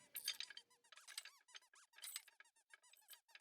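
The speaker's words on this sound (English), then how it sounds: "That's a great noise. The fucking squeaky toy." Squeaky toy in a video game, a quick cluster of high rubbery squeaks in short uneven bursts, close and fairly faint, with no talk over it.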